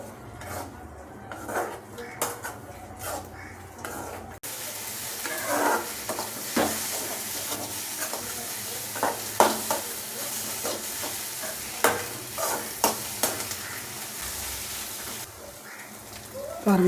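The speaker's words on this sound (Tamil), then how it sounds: "இப்போ நம்ம முட்டையை அதில் ஊற்றிடலாம். அப்படியே கிண்டி விடுவோம்." Beaten egg is poured over sautéed onions in a pan and stirred, giving a steady sizzle with scraping and clinks of a spatula against the pan, near and continuous.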